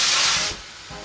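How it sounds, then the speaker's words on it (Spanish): A glass of water hits a hot tray in an oven while baking ciabatta bread, bursting into a loud, close steam hiss that drops off sharply after half a second to a softer fizz. "echar el vaso de agua para generar el vapor que os he comentado"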